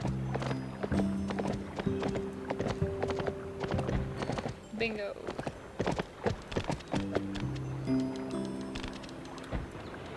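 Horse hooves clip-clop in the Barbie Horse Adventures video game, a steady close rhythm of hoofbeats running throughout, with a brief whinny-like call midway and musical tones underneath.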